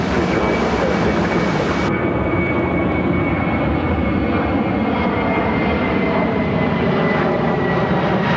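An American Airlines Airbus A321, flight 2428 from Dallas Fort Worth, goes around at Chicago O'Hare with a close, loud and continuous jet roar carrying a steady high whine.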